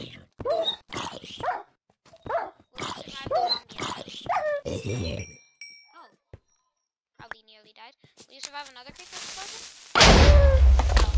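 A dog whimpers in the Minecraft video game, thin whines among excited talk and a few game sound effects, ending in a loud burst of noise.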